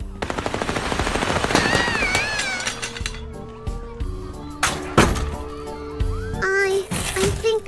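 Gunfire with real bullets in the Little Misfortune video game: rapid, sharp shots crack against a tonal game score, with a high childlike voice and bright chiming effects in the mix.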